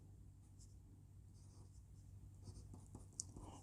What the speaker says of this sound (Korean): 그 모음을 제가 한번 써볼게요.